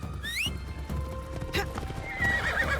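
A horse in the video game Assassin's Creed Shadows whinnies with a rising squeal, followed by scattered hoof clops and a brief snort, all fairly quiet.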